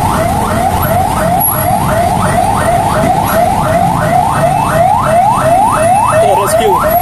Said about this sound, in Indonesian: Suara sirine. Kayaknya ambulan aja ya.